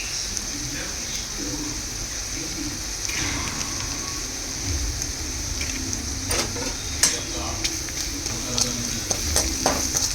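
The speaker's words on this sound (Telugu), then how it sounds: "సో ఇలాగ ఫ్రై చేసుకోవాలి వీటన్నిటిని." Ground coriander and other spices frying in a pan for palak paneer, a steady sizzle with scraping stir strokes and occasional clinks, close and continuous under faint talk.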